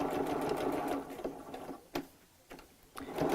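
A sewing machine stitches two cheap fabric hexagons right sides together with a small stitch, running in a steady close whirring hum with a few brief pauses and restarts.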